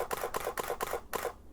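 A camera shutter fires repeatedly in continuous burst mode during an ink-drop photo shoot. Five or six evenly spaced clicks are close and crisp, then silence.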